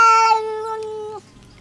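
A single drawn-out cat meow, clear and close, with rich harmonics that slide down and cut off sharply, followed by quiet room tone.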